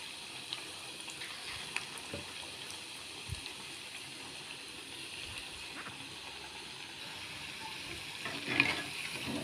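Dill leaf bondas frying in hot oil give a soft, steady background sizzle with faint scattered pops, quiet and continuous throughout, rising slightly near the end.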